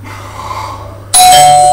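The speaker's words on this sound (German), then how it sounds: "Es hat geklingelt." A doorbell chimes suddenly and loudly after a quieter stretch of low background hum, its bright tone ringing out and sustaining to the end.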